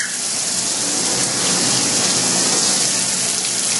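Coolant gushes at high flow from half-inch Loc-Line hoses with quarter-inch straight nozzles on a Tormach PCNC 1100 CNC mill, a loud, steady, rain-like hiss of splashing liquid with no pauses.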